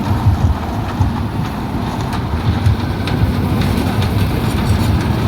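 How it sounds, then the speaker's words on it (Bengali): A dragon-themed kiddie train ride runs at an outdoor crafts fair, its engine giving a loud, steady rumbling hum that continues throughout. "এই দেখেন বাচ্চাদের বিনোদনের জায়গা একটি ড্রাগন ট্রেন"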